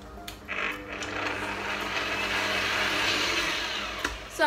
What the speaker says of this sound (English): we're going to grab our stand mixer and we're just going to mix it like normal